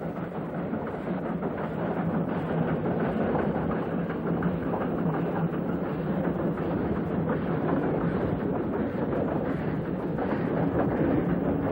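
An Indonesian E10 steam locomotive train in 1974 rumbles steadily along the rails, with a continuous rattling clatter of wheels and carriages at an even, sustained loudness.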